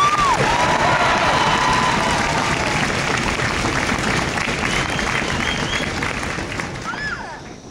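A large crowd at an Army basic combat training graduation at Fort Jackson applauds and cheers loudly, with dense continuous clapping and a few whistles that slowly fade toward the end.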